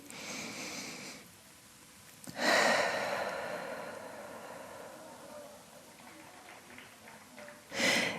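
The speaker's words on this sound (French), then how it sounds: "Et une dernière grande respiration ici." During a yin yoga relaxation, a slow, deep breath is drawn in and let out as a long, audible exhale, followed by quiet calm and another breath at the end.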